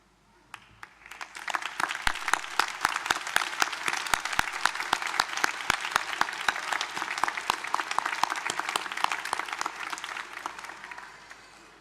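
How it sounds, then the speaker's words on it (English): A graduation audience at James Cook University in Townsville breaks into sustained applause, swelling quickly into dense, steady clapping from many hands for around ten seconds before tapering off, with no voices over it. "join me in acknowledging their support through a round of applause."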